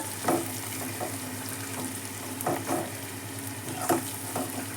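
Ginger, garlic and onions frying in a pan, a steady close sizzle with a few louder crackling bursts spaced through it and no talking.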